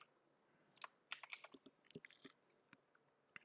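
Quiet typing on a computer keyboard, irregular bursts of soft key clicks with short pauses, close by, no voices.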